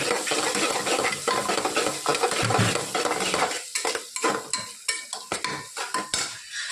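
A utensil scrapes and stirs through onions and spices in a pan, with turmeric, green chillies, red chilli, asafoetida, garam masala and cumin, steady clinking and rustling with a soft sizzle underneath, no voices.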